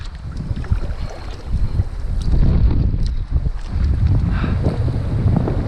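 Strong wind buffets the microphone while sailing a Hobie Tandem Island, a loud, steady rumbling roar with gusty surges and faint water wash, no talking.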